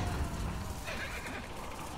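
A horse whinnies in The Last of Us Part II video game, a drawn-out neigh heard over a dense, constant game soundscape.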